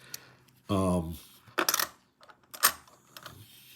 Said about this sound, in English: Nothing like the sound of silver, right?